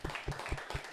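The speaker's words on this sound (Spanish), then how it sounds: "quiero que sí le demos un fuerte aplauso a don Humberto que nos está mirando." A few people clap quietly at the close of a Spanish-language podcast episode, about five distinct, evenly spaced claps close to the microphone.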